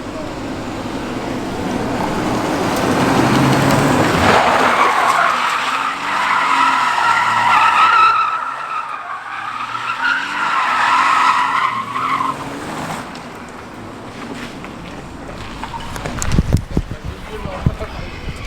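A BMW E36 skids with long, loud tire squeals over a revving engine, the screech rising and fading across several seconds before rougher bumps near the end, with people talking over it.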